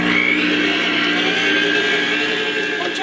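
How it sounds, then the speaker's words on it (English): An electric mixer whirs steadily, blending ginger snap dough of molasses, butter and sugar in a home kitchen, a continuous close, even motor hum with no talk. "I decided that I'm going to incorporate a mixer"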